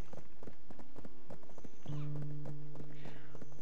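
Hooves clip-clop in a steady trot from an untamed wild horse in the online game Black Desert Online, with a brief whinny and a sustained tone partway through.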